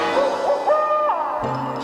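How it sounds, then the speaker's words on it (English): A great snowy owl's hooting comes as several sustained, wavering tonal hoots close and loud, with no talking. "the great snowy owl set up a terrible, terrible howl"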